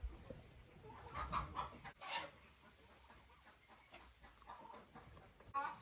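Hens clucking inside a backyard chicken coop, faint scattered clucks and soft calls over a quiet hiss, with no talking.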